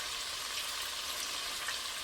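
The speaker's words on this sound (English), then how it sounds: "Can you hear that sizzle? Listen." Sausage and potatoes frying in a pan for a cabbage, potato and corn soup, a steady close hiss of crackling sizzle with no voices over it.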